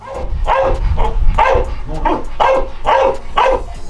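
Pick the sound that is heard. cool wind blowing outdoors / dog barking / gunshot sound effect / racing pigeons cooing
dog barking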